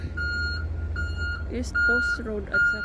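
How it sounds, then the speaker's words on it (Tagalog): A noisy truck on a road backs up, its reversing alarm giving repeated steady beeps at an even rhythm, with other tonal beeps and traffic rumble mixed in and someone talking over it. "ang ingay mo truck"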